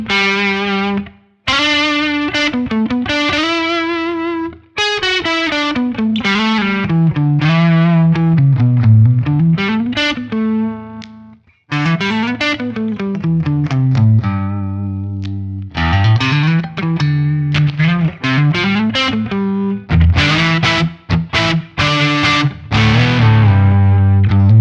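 An electric guitar on the neck pickup plays single-note lines through an Axe Fx III modelling a Cornford MK50H II amp with reverb, giving loud, distorted, sustained melodic phrases and bends with brief pauses between runs.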